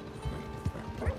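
Hooves of a racehorse clip-clopping in Red Dead Redemption 2, a few distinct heavy thuds spaced unevenly over a low game ambience, fairly close and moderately loud.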